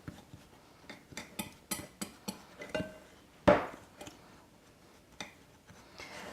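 Ingredients for a breakfast bake and oatmeal muffins are mixed in a bowl, with a spoon clinking and tapping the bowl in quick, uneven strokes, close by, and one sharper knock midway.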